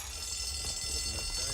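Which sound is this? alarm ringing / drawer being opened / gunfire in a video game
alarm ringing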